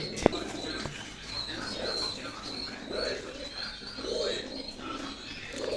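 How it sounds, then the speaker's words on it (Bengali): A pigeon coos in a repeated soft rhythm, four or five low burbling calls spaced about a second apart, close by, with faint background noise. "এটা একটা শিয়ালকুটি কবুতার"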